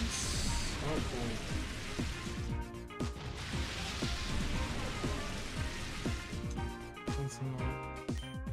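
Rain Dance move in the Pokemon XD: Gale of Darkness video game: a steady, dense hiss of falling rain runs through the whole stretch, mixed with game music and scattered crashing impacts.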